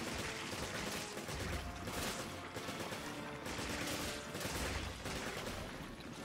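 Loud, continuous gunfire in the video game Resident Evil 5 Remastered as a boil is shot, with overlapping rapid shots and no pauses.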